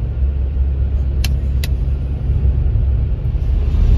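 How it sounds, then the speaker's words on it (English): A four-wheel-drive Mercedes 4MATIC car travels along a snowy, nearly empty winter highway, giving a steady low road rumble and tire hiss with no talking. "My Mercedes is always a 4MATIC, which is always four-wheel drive, so that ought to be good."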